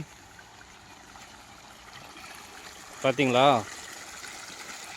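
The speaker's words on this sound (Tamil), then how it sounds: "தண்ணி எப்படி ஓடிட்டுருக்கு?" Water flows steadily in a village canal, a soft continuous wash of running water heard throughout, with someone briefly speaking over it partway through.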